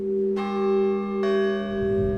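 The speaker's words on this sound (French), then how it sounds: "Dans une cloche, la fondamentale et ses harmoniques sont émises en différents points de la robe et de la panse." Church bell struck twice, each strike a bright clang with a long sustained hum of overtones that rings on steadily, clear and close with no talk.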